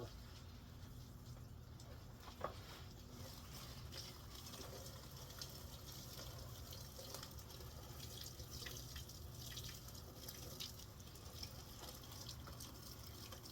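Water poured from a watering container over many pepper seedlings indoors, a continuous soft trickling and splashing under a steady low hum, close but quiet, with no talk.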